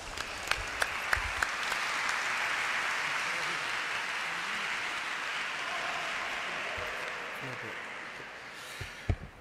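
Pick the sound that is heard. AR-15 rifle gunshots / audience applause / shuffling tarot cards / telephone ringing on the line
audience applause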